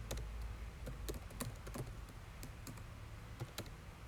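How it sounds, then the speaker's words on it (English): Someone types on a computer keyboard during a programming session, producing quiet, irregular clusters of crisp key clicks over a faint background hum. "We can start typing away."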